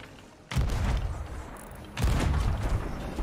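Ship cannons firing in Sea of Thieves video game: two heavy booms land about a second and a half apart, each followed by a long rumbling tail that hangs in the air.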